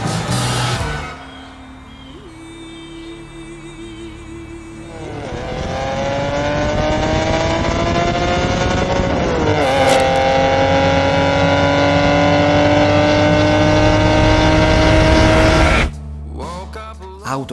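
A Honda NSX sports car engine revs hard while driving, its pitch climbing through sustained loud pulls with a brief gear-change dip near the middle, then cutting off abruptly near the end.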